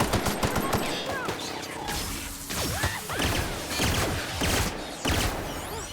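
Shotgun blasts in The Outer Worlds during a chaotic firefight, several loud booming shots with whooshes and mechanical clatter spread unevenly across a few seconds amid dense game combat noise.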